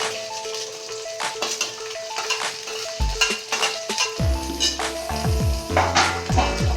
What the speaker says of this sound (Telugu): ఒకసారి బాగా కలుపుకుందాం